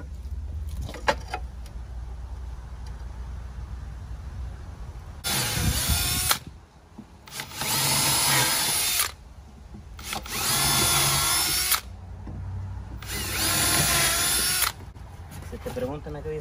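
A power drill drives screws into wood while building a floating bench, whining in four loud bursts of roughly one and a half to two seconds each, separated by short pauses.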